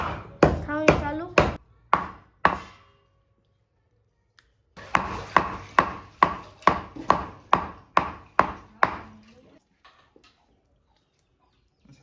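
Dry tripe (vajri) for a masala is cut into thin strips at close range: sharp, regular strikes fall in a quick burst, pause, then return in a steady run of about a dozen even cuts.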